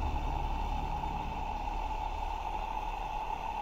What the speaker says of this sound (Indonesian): mungkin kalian pengen dengerin gimana suaranya kalau airnya itu direbus